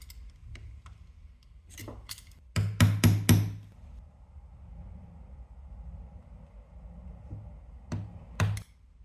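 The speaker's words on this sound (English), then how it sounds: "I could cut out it with a knife in several cuts, like this" A knife cutting thin leather for a small coin and card wallet, heard as a few quick ticking slices, then a louder burst of four or five rapid cutting strokes, and two more near the end, close and quiet otherwise.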